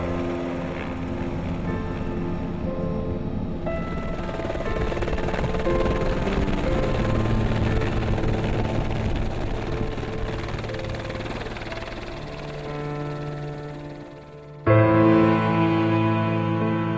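A helicopter flying over Port-au-Prince, Haiti, gives a steady loud drone and high whine, heard as if from inside, continuous throughout with a sudden shift in tone near the end.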